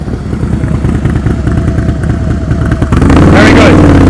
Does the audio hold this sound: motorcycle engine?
yes